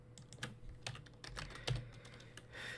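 Fingers typing a username and password into a login page on a computer keyboard, a quiet, irregular run of soft key clicks close by, with no voices.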